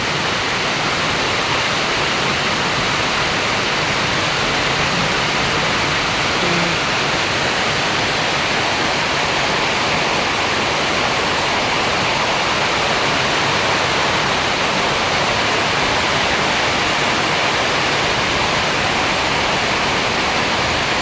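Heavy rain pouring in a dense, constant hiss, loud and unbroken throughout, with no voices.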